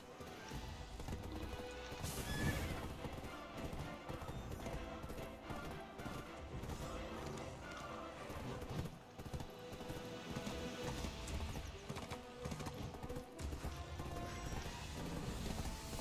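Horse hooves clatter in a fast galloping rhythm with a whinny in the Black Desert Online video game, mixed under game music and effects at a faint level.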